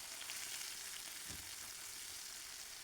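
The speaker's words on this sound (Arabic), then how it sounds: "في مقلاة درت فيها شويه تاع زيت، خليتها حمى وفرغت فيها هذاك الدنجال وخليته يتقلى" Eggplant frying in hot oil in a pan makes a faint, even, continuous sizzle with no breaks, heard on its own.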